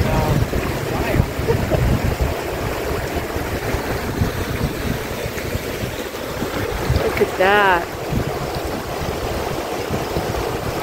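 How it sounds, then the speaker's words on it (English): The Beaver River in Utah rushes along as a snowmelt stream, giving a steady broadband roar of moving water with wind buffeting the microphone, while people talk over it. "This is Beaver River."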